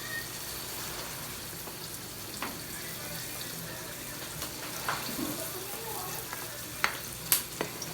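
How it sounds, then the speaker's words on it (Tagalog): Cooking oil goes into a pan for a vegetable stir fry, a faint steady sizzle with a few sharp clinks and taps near the end, quiet in the background and with no voice over it. "maglagay na po tayo ng mantika"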